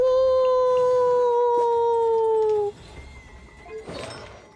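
A wolf howls in the Genshin Impact video game: one long, steady, slightly falling howl lasting about two and a half seconds, loud and close, then fading into quieter game noise with a soft rustle.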